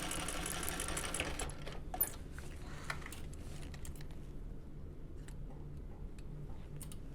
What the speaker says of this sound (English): I'm gonna hold it together as I'm sewing across it.